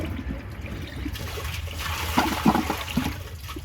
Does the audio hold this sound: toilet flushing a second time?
yes